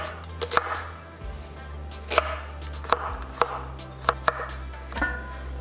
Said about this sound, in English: So everything is gonna be a rough chop because we're gonna be blending it all in together.